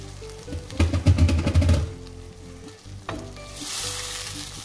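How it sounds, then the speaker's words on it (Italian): Fresh cream poured into a hot pan sizzles and crackles loudly for about a second, then settles into a quieter, steady frying hiss with a few stirring sounds. "A questo punto inseriamo la nostra panna fresca."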